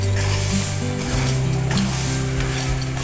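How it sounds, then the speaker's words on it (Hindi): Semolina roasting in desi ghee in a pan for sweet suji halwa, giving a steady soft sizzle and occasional stirring scrapes throughout, with no talking. "सूजी को भूनना है हमने, लाइट सा कलर देना है इसको।"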